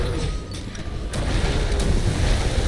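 Explosion in the video game Monster Hunter World: Iceborne, a loud, rumbling blast that sustains as a dense wash of low noise with a brief sharper crack midway, no voices.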